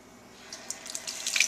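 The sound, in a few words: tap water running into sink while washing clam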